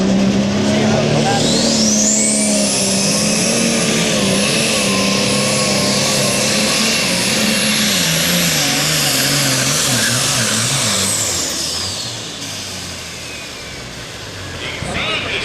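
A John Deere pulling tractor roars loudly and continuously down the track at a truck and tractor pull, its engine whining high and rising before tapering off, while an announcer's voice carries over the din.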